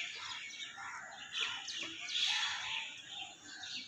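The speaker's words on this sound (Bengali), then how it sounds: "কোনো গাড়ির আওয়াজ নেই, শুধু পাখিরই কলরব শোনা যাচ্ছে" Small birds chirp and twitter on a quiet, foggy winter morning, a steady chorus of bright calls heard at a moderate distance with no traffic.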